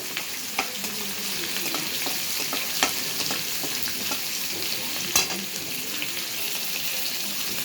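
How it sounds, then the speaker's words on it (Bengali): Bay leaf, dried red chilies and five-spice seeds frying in hot oil, a steady close sizzle with occasional sharp pops and crackles, no voices. "তেজপাতা দেব, শুকনো লঙ্কা ফোড়ন দেব, দিয়ে মশলাটাকে ভালো করে ভাজতে দেব।"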